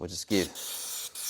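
A steady hiss of carburetor cleaner sprayed into the carburetor cavity of a Briggs & Stratton lawnmower, lasting about half a second after a man's brief spoken words, close and fairly loud.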